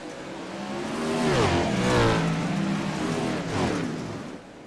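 Sprint cars racing around the Huset's dirt track, engines roaring and rising in pitch as they pass close by, the loud drone swelling and fading.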